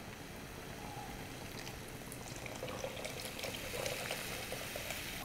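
Tamarind water goes into a pan of sautéed onions for Madras fish curry, setting off a steady, close hiss and bubbling sizzle that grows slightly louder as it continues, with no talking.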